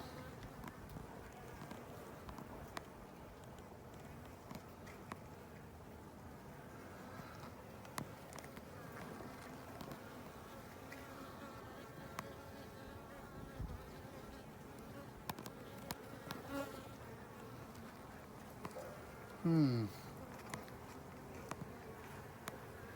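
Steady insect buzzing from many bees, a low continuous drone with faint background movement and occasional brief clicks.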